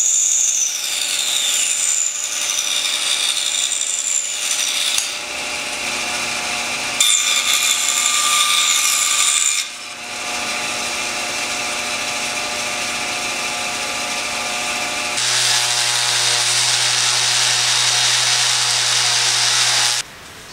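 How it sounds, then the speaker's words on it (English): A power tool cuts off and sands a wooden spline on a rabbit hutch, loud continuous whining and grinding close by with shifting pitch, brief drops between passes and a steady sanding drone near the end. "now we're going to cut off our spline and then sand it"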